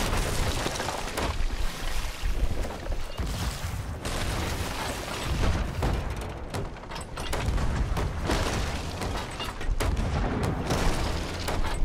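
Cannon fire aboard a sloop in a player-versus-player naval battle in Sea of Thieves: repeated heavy booms and bursts thunder over ocean and ship noise, loud and close throughout.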